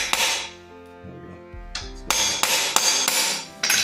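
A metal hammer taps a part into place on a Buscadero 140 with several sharp, ringing strikes, first one, then a rapid string of close, loud hits after a short pause, with no talking.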